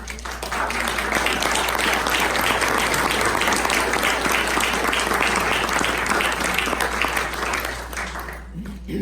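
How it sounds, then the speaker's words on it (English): An audience at a Native American meeting gives a speaker a round of applause: a steady, dense wash of clapping for about eight seconds, with some voices mixed in and a low hum beneath, tapering off at the end. "Would you stand up, please, and give me a round of applause?"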